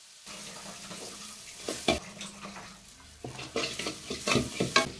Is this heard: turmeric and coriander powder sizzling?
yes